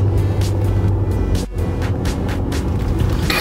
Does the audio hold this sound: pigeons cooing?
no